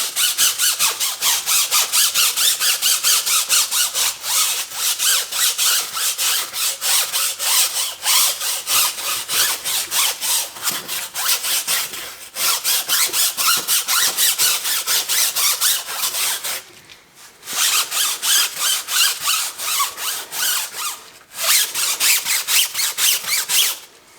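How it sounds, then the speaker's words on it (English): A brush scrubs a dirty tire coated in waterless cleaner, a loud rapid back-and-forth rasping that runs steadily, near and close-miked, with a few brief pauses between strokes and no talk. "we're going to come in and agitate the tire"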